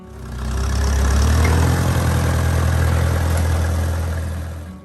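A Case VAC classic tractor engine runs with a steady low rumble that swells in loudness and then gently fades, like the tractor passing nearby, no voices.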